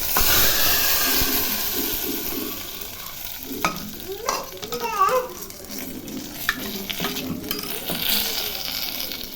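Cooked vegetables for sambar, including radish, drumstick and spinach, are mixed in a vessel. Wet squelching and scraping stirring sounds come close and uneven, with a few louder sloshing bursts in the middle over a soft background hiss.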